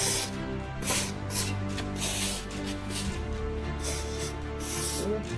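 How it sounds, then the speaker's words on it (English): A silicone-based lubricant is sprayed in a few short hissing bursts onto garage door hinges and roller bearings, close-up, over a steady background hum. "Just spraying on the hinges, on the bearing like this."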